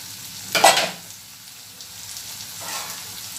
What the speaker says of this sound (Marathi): छान परतली आपली भा भाजी ही कारल्याची